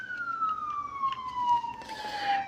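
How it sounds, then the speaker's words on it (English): An emergency vehicle siren passes outside, its single steady wail slowly falling in pitch, heard indoors through walls at moderate loudness with faint background noise. "Sorry about the siren, guys."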